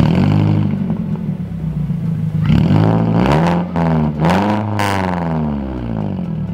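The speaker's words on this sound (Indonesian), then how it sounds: "Gua coba hidupin mobilnya ya. Gua gas tapi jangan terlalu kenceng karena banyak anak-anak di sini." A Toyota Agya with a full-system aftermarket exhaust idles with a deep rumble, then gets several quick throttle blips that rise and fall in pitch, close and loud.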